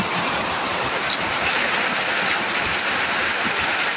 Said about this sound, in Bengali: দেখো এত পরিমাণ বৃষ্টি হচ্ছে। এটা হচ্ছে আমাদের উঠান